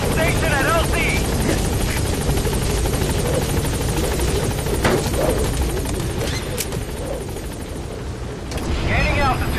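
A B-Quad helicopter in Metal Gear Solid V roars loudly and steadily throughout as it arrives at the landing zone, its rotor wash dense and continuous, with a radio voice talking over it.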